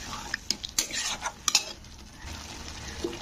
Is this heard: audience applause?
no